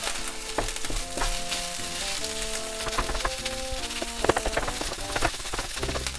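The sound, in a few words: chicken fried rice stir-frying in a pan, breaking up clumps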